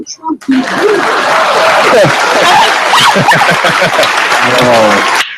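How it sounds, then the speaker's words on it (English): Audience applause at a GOP primary campaign event, broad steady clapping with a murmuring crowd, while a voice keeps talking over it throughout. "Please clap."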